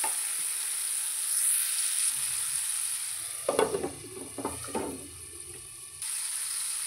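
Chopped tomato dropped into hot oil, giving a sudden crackling sizzle with a few stirring scrapes, then a steady low frying hiss over constant background noise.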